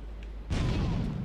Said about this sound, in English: let's dump some nades over the wall.